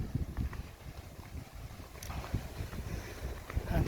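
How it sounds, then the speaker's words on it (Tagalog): Strong wind gusts on a hilltop during a typhoon buffet the microphone with a low, rumbling roar that swells and surges unevenly, with no voices over it. "lakas ang hangin dito sa taas"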